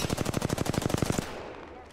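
Rapid automatic R301 SMG fire in a video game, a loud close burst of about fifteen evenly spaced shots lasting just over a second, then stopping.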